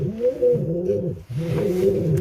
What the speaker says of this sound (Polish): jest to bardzo fajna rasa gołębi akrobatycznych, wysokolotnych